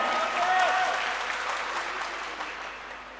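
Audience applause for a poet at a Hindi shayari recital in Ludhiana, a steady dense clapping from the crowd that stays loud and then tapers slightly.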